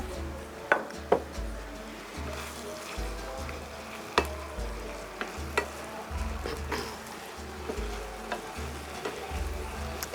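Liver frying in a pan for a traditional rice-and-liver dish, a steady close sizzle broken by sharp scraping and stirring knocks from the utensil against the pan.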